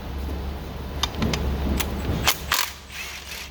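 Milwaukee power ratchet working on 13 mm bolts of a 2020 Ford 6.7 Powerstroke turbo, a whirring mechanical drive punctuated by several sharp clicks, then stopping into quiet.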